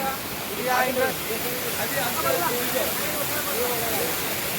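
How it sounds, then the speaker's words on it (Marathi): Steady broadband rush of a waterfall at Tamhini Ghat, loud and continuous, with faint voices partly buried beneath the roar. "इथं खतरनाक वाला धबधबा आपला नांदेड पेक्षा इकडे भारी आहे"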